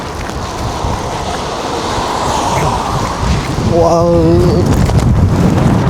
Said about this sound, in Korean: 아마 이 바람 소리도 담길 것 같긴 한데,